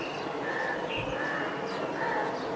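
Pigeons for sale, including red khaki and silver birds, coo and chirp softly at a market stall, a steady murmur of bird calls over constant background noise.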